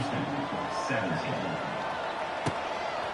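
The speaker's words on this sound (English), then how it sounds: "this crowd is buzzing after that last score" A stadium crowd in a college football video game between Texas Tech and the CPU makes a steady, fairly loud buzz, with a brief sharp thud near the end and a commentator talking over it.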